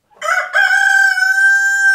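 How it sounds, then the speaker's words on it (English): A Rhode Island Red hen on a farm gives one loud, close, drawn-out call that rises sharply and then holds a steady, sustained tone for more than a second, with no other sounds around it. "the Rhode Island Red. Very famous bird, very famous."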